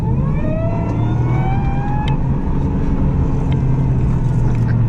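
A 2014 Ford Raptor pickup with a Whipple supercharger drives steadily through canyons with a loud, constant engine drone and road roar from dry-rotted tires, the engine note rising slightly as it pulls.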